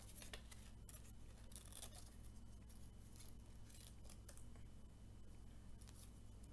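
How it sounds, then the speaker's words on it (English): Scissors snipping out paper shapes, a triangle and an oval, for a paper lion craft, heard as a close, steady run of small crisp cuts over a constant low hum, with no talking. "I'm gonna cut those out."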